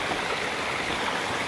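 A clear mountain stream flows along a hiking trail toward a waterfall, a dense, steady rushing wash of water, close and loud with no voices.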